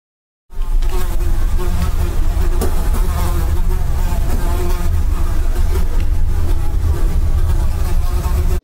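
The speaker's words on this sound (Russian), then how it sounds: "В ней хозяйничает рой мух." A swarm of houseflies in an apartment buzzes loudly and without a break, a dense close drone of many wings that starts suddenly after a short silence and holds steady throughout.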